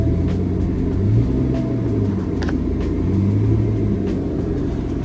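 A Ford Explorer engine idles after a misfire repair with a steady, even low rumble, close by and fairly loud, with no voices over it.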